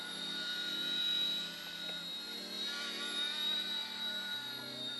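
Small helicopter with a modified tail rotor running steadily close by, its whining pitch shifting and dipping partway through before settling into a slightly different tone.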